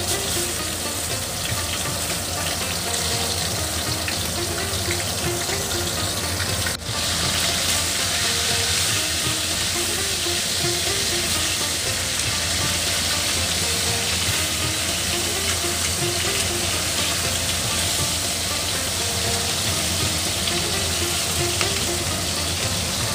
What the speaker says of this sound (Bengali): কড়াইতে সরষের তেল দিয়ে দিলাম